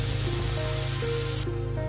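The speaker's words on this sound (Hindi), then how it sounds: "अब ढक्कन बंद करके एक दो सीटी लगा लेना है।" A pressure cooker boiling sweet potato vents steam through its whistle as a loud, steady hiss that fills the whole moment and cuts off abruptly in the high range near the end.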